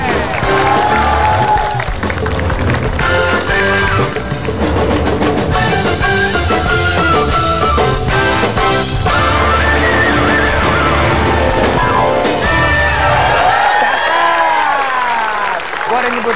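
A studio audience applauds a band during an Indonesian TV show, the clapping mixed with loud band music and a host speaking.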